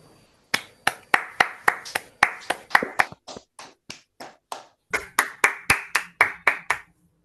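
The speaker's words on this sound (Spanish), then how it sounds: "darle un fuerte aplauso por la presentación" During an online session, a lone pair of hands claps in a steady, evenly spaced rhythm close to the microphone. After a brief pause the clapping starts again, then stops, leaving quiet.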